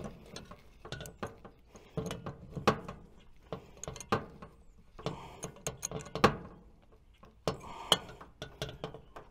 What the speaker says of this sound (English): we'll tighten up this nut right here to give some strain relief